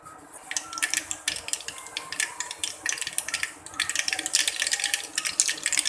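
Mustard seeds crackling and popping in hot oil for a Gujarati tempering, a dense crisp spatter of quick pops that rises and falls, close and fairly loud, with no talk.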